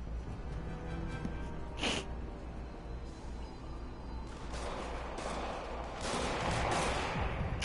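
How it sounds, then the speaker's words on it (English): Scattered sharp gunshot cracks over a continuous rumbling background in the game Spider-Man on PS4, a few isolated shots followed by a busier burst of firing. "Oh, gunshots."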